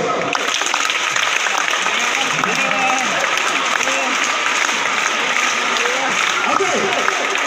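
A crowd claps together steadily at a Nua Khai gathering at KISS University in Bhubaneswar, the dense applause holding evenly throughout with scattered voices mixed in.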